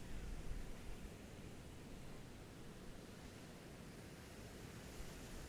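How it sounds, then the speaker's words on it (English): Simulated ocean waves from a retro video game, a steady hiss of noise that swells slightly near the start, then holds level and soft throughout with no distinct breakers. "To simulate the waves."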